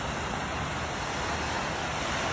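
Ocean surf on Lake Worth Beach in Florida washes in a loud, continuous roar close to the microphone, mixed with wind buffeting and no voices.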